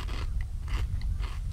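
Bites into crunchy, sweet-glazed Japanese rice crackers give a few sharp, close crunches with chewing in between, quiet and without talk.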